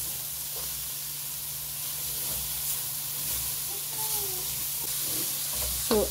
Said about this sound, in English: it's always good to stir your vegetables as you add them, so that you distribute the oil evenly